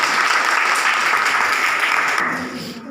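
Dense applause from students at a girls' inter college quiz event, loud and steady clapping that fades out near the end.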